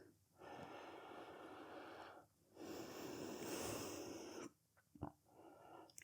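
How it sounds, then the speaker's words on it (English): A big breath drawn in and let out during a gentle bedtime yin yoga stretch, two long airy breaths close to the mic with a brief snort-like sniff after, soft and unaccompanied by talk. "take a big breath in and out"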